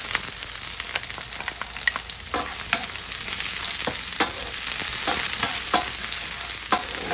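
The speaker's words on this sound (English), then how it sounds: "So I'm gonna be adding the garlic and the onions." Garlic and onions frying in a pan for seafood spaghetti, a steady loud sizzle with repeated scraping stirs, close up and without voices.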